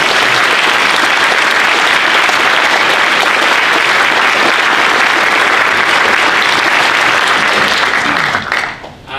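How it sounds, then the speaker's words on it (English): Loud, dense crowd applause at a naval submarine change of command ceremony, honoring a high school color guard; continuous clapping that fades away at the very end. "Can we get a round of applause for"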